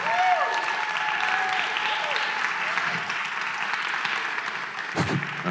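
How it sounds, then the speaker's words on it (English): An audience at a talk on stage gives a sustained round of clapping, dense and steady for several seconds, with a brief tonal squeal and a thump near the end. "Can we have a round of applause?"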